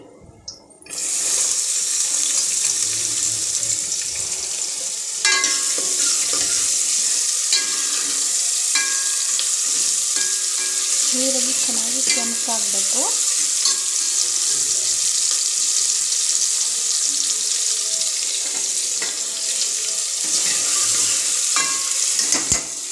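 Onions sizzle steadily in hot oil in a pan while bitter gourd sambar is cooked, a loud, continuous frying hiss with occasional stirring sounds and a brief voice in the middle.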